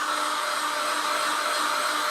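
A heat gun blows hot air onto the bashed-in foam nose of a Durafly Tundra model plane, a steady, close, loud whooshing roar that continues unchanged.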